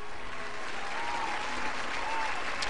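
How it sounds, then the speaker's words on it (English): A crowd applauding steadily, a dense patter of clapping that fills the whole moment. "can I get a round of applause?"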